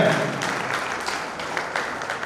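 Audience applause at a book launch in a formal hall, steady and moderately loud clapping sustained throughout, with no speech over it.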